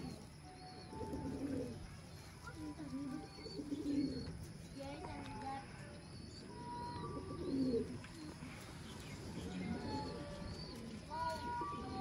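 Chapde pigeons, a rare breed, coo in low, throaty bursts that repeat every few seconds, with faint bird chirps and soft background voices mixed in.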